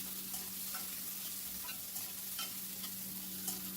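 Chopped onion sizzles steadily in hot oil with spices, with soft intermittent scrapes of a spoon stirring through the pan, close and fairly quiet throughout.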